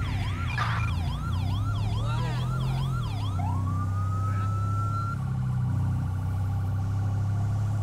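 A police car siren in the GTA 5 LSPDFR video game wails loudly and continuously at close range, then shifts to a long steady rising tone, over a low engine drone.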